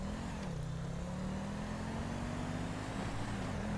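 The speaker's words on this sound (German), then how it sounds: "Und geben mal Gas." Police car engine in GTA 5 accelerating as a steady, droning hum that rises gradually in pitch and stays continuous throughout, with no talking.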